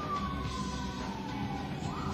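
A siren passes outside during an indoor makeup session, a steady falling wail at moderate distance that stays constant and fairly loud for the whole stretch, with no talking over it.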